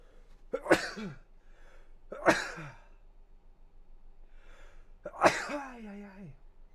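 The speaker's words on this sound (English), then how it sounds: "Gonna sneeze now." Three sharp sneezes a second or so apart, close and loud, the last one trailing into a drawn-out vocal exhale; quiet background between them.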